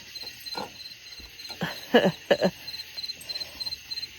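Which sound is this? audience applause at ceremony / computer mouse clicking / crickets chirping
crickets chirping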